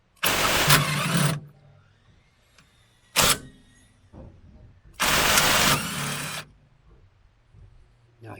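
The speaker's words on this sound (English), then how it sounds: "A Sealy 12-volt impact wrench, 3/8" A Sealy 12-volt 3/8 cordless impact wrench fires in three close bursts on a Mk3 Cortina, two short and one longer, with quiet gaps between them.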